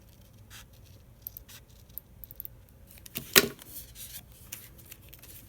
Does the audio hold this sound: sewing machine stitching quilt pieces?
no